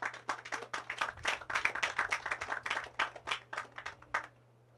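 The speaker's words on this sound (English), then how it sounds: "I think they deserve a round of applause." An audience at an agriculture commissioning ceremony for an aquaponics system gives a round of applause, with brisk, uneven clapping of moderate loudness from a small crowd that stops abruptly after about four seconds.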